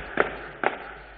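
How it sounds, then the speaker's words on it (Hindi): Firecrackers bursting at a political rally, two sharp distant-sounding pops about half a second apart over a low steady background. "खुद राहुल ने सोनिया गांधी को आतिशबाजी को नजरअंदाज करने को कहा।"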